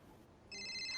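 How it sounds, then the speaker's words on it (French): A mobile phone ringtone starts midway through, a steady electronic melody of bright repeating tones that stays loud to the end, with no talking over it. "C'est mon téléphone."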